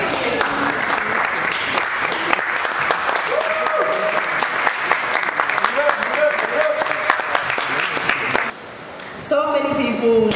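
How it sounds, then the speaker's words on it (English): Loud, sustained audience applause greets Ghanaian actress Emelia Brobbey at a Vodec Africa event, dense clapping running steadily for about eight seconds before a brief dip and a final burst of claps. "Let's acknowledge her with a big round of applause"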